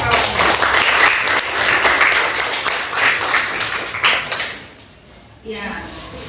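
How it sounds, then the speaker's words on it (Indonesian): A classroom of students claps for a classmate during an Islamic education lesson, with many close hands beating fast for about four seconds before fading out into quiet room tone and a faint voice. "Beri aplaus dulu nak untuk kawan."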